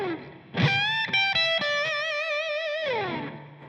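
A distorted electric guitar plays a short solo lick, with bent notes that rise and waver in vibrato before sliding back down, loud and close with no talking.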